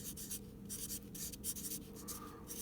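A pen writing figures on paper while a vinegar and baking soda reaction is being weighed, a quiet, close, continuous scratching with short strokes and pauses.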